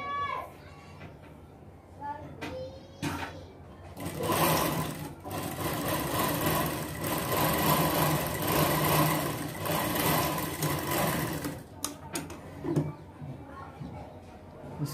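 A sewing machine stitches the lining of a baby frock, running in a steady rapid whir through the middle of the clip with short bursts and pauses at either end, while someone speaks Hindi over and around it.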